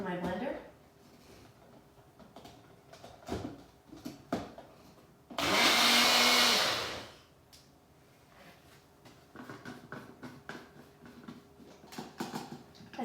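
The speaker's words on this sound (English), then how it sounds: "So, in my blender," A countertop blender whirs loudly for about three seconds while blending tahini dressing, a steady high-pitched roar between stretches of talking.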